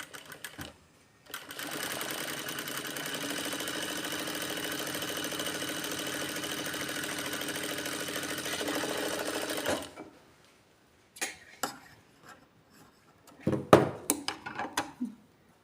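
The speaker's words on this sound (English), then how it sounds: "Lift your pressure foot and start stitching" A sewing machine runs a straight practice stitch on fabric, one continuous close whirring run of about eight seconds, followed by a few soft clicks and handling noises.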